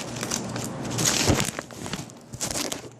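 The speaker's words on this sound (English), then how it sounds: "these scissors aren't doing a very good job cutting in" Crinkly paper envelope rustling and crunching with short snipping bursts of scissors cutting it, close by, over a steady background hum.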